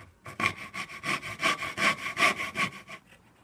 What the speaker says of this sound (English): This is called a back saw or dovetail saw.